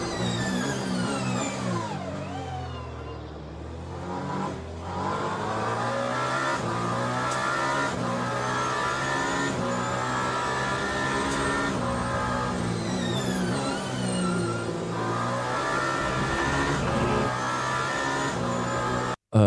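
LMDH prototype race cars in the Le Mans Ultimate racing game pull away together, a dense roar of multiple engines revving and shifting up through gears, loud and continuous with overlapping whines throughout.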